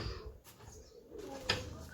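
Dutch tumbler pigeons cooing in a loft, soft low throaty coos close by, with a sharper brief call partway through over quiet background noise.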